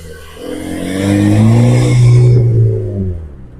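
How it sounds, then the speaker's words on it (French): A BMW M340i's engine revs hard close by, the loud growl swelling and fading over a few seconds with no voices. "Wow, elle est énervée cette Red4. Ah non, M340i."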